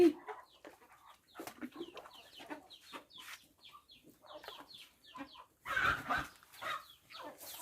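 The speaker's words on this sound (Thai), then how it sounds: "เฟนต้ากลัวไก่นะคะ เป็นช้างที่กลัวไก่ค่ะ" Chickens cluck close by in irregular bursts near an elephant, with a louder, busier flurry of clucking near the end.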